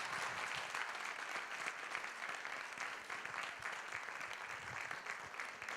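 Sustained applause from a forum audience at an opioid crisis event in Ohio, steady dense clapping that holds evenly at a fairly distant, moderate level throughout with no pause.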